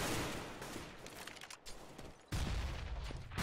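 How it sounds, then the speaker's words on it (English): Grenades going off in a video game, loud booming bursts and rumbling blasts, a sharp heavy explosion hitting midway and ringing out to the end. "Some grenades going down."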